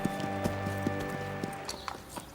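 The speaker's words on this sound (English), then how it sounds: "Few can perform this exacting dance with the power and precision of the Spanish horse." Hooves of a Spanish horse performing a dressage routine, a steady rhythmic clip-clop of repeated footfalls under a continuous musical backing.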